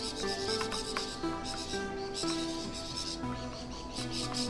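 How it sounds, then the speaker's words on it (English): Wild birds chirp and call outside a window, a busy mix of repeated tweets at moderate distance, with no talking. "you're going to be hearing birds from outside my window"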